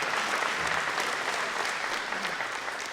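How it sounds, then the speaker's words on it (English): An audience at a city State of the City event applauding students, dense, even clapping from a large crowd that stays loud and steady for a few seconds. "Can we get another round of applause for these amazing students?"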